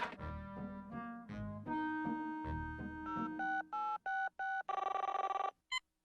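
A cartoon telephone in a Woody Woodpecker short rings in a series of sharp, bright electronic bursts over background music, the rings growing more distinct and evenly spaced toward the end.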